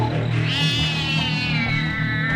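A cat's drawn-out screech in a horror cartoon rises and wavers over a steady low musical drone, loud and close for about two seconds.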